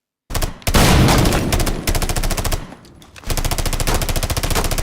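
Rapid automatic gunfire from a Ubisoft video game demo shown at E3 rattles out in loud, evenly spaced bursts, with a brief lull before the rhythmic volley resumes.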